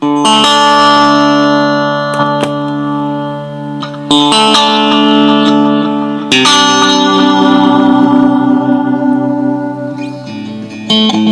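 A digital delay pedal with its feedback turned up, sustained electric guitar tones repeating and smearing into long echo trails, loud and continuous, with a few sharp new attacks along the way.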